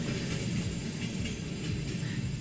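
An electric commuter train pulls away from a level crossing, a steady low rumble with faint wheel hiss, heard from outdoors at moderate distance with no talk over it.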